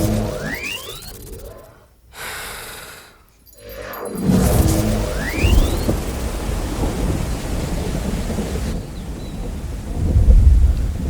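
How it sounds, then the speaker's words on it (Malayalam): Heavy rain falls with rolling thunder, deep rumbles swelling and fading over a steady wash of downpour, loud and near, with short dips into near quiet between bursts and no speech. "നല്ല മഴയാണ്"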